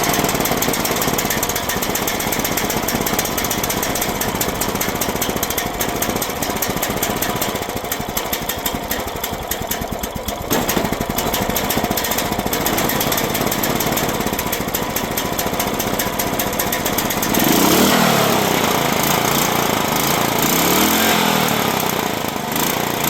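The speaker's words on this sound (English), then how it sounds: "So let's put the choke on and turn the fuel on and then fire things." A 420cc engine swapped into a 1987 Polaris Cyclone 250x runs loud and close with a rapid, clattering, hammering putter throughout, its tone shifting as the revs change near the end.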